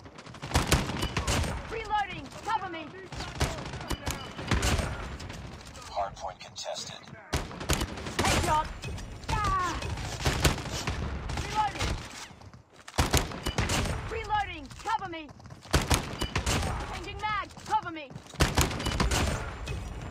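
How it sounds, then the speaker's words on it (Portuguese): Rapid bursts of explosive NA-45 fire in Call of Duty Mobile crack and thump repeatedly in clusters, loud and dense, while a player talks over the action. "pode atirar rápido também, você explode"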